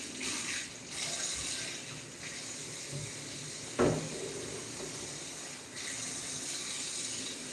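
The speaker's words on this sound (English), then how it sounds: "So now, I'm gonna wash my hands." Hands washed under a running kitchen tap, a steady close stream of water with a few splashes and one sharper knock midway, with no talk.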